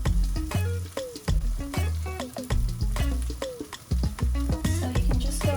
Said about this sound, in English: So we've added our tuna cakes to the pan.